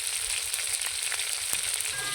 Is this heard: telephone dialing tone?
no